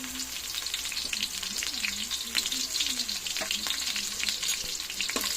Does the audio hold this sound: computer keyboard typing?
no